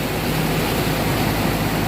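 Lastak Falls in Dingalan, Aurora, pours as a loud, continuous broadband roar of rushing water, close and steady with no pauses and no voices.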